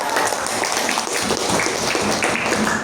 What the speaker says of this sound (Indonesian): beri tepuk tangan buat Kak Tias.